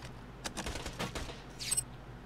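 Quick bursts of gunfire from the video game Borderlands 2 crack out in a rapid volley, fairly faint and distant, followed by a brief higher hiss.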